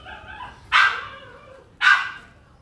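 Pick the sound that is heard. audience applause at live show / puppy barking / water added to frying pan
puppy barking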